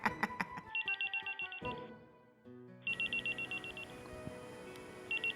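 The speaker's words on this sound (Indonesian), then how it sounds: "Gus, si bos telepon gua" A telephone rings in repeated bursts of an electronic trilling tone, pausing briefly midway before resuming, close and clear with no talking.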